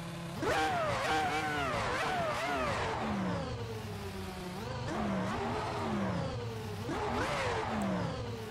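A car engine in the Assetto Corsa racing game revs up and down repeatedly, rising and falling in pitch in a continuous mid-level drone without talk.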